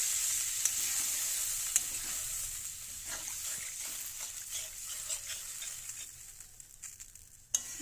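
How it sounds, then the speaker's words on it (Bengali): Soft, steady sizzle of hot fish curry masala in a pan as water is poured in, with faint stirring clicks and scrapes scattered through the bubbling hiss; no voices. "পরিমাণ মতো জল দিচ্ছি।"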